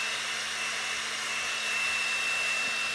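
A hair dryer blows steadily at close range to dry paint on a polymer clay piece, a continuous airy whir with a constant hum beneath it and no speech.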